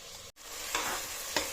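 Mutton goes into a pan of frying onion and tomato and is stirred, giving a steady sizzle with two brief scraping swishes of the spoon, heard alone and fairly quiet.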